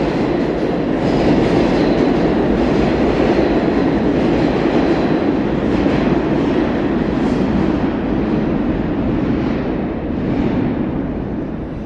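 A New York City subway train rumbles loudly and steadily throughout, with dense rolling wheel noise and rail clatter filling the whole stretch and no voices over it.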